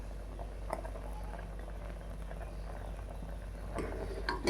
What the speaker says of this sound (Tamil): பாருங்க, பருப்பு வேக வச்சுருக்கேன்.